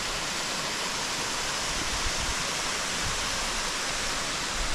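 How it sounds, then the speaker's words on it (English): Purling Brook waterfall in the Springbrook rainforest pours in a steady, full, hissing roar, constant and fairly loud, with no other sounds. "The Purling Brook waterfalls from another angle."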